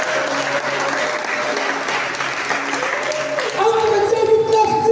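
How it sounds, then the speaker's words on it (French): A church congregation applauds in sustained, moderately loud clapping while a voice talks over it and tones sound underneath, growing louder near the end. "Donne des acclamations du Seigneur"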